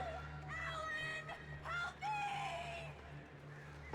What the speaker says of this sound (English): I hate crows.